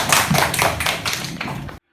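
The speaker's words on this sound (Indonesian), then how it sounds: "Beri tepuk tangan untuk teman kalian yang sudah mau maju ke depan." A classroom gives a student a brief round of applause, a short, fairly close patter of clapping hands that fades out after under two seconds.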